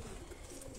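Pigeons on a fancier's rooftop give a soft, murmuring coo beneath a wash of steady outdoor noise, faint and brief.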